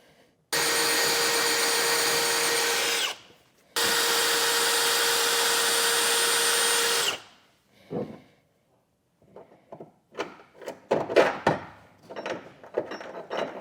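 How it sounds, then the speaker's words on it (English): A power drill bores pilot holes in a steel trailer frame for an underbed gooseneck hitch, running in two long steady bursts, then stopping before clattering handling noises and knocks follow. "drill it out till one side fits in perfectly"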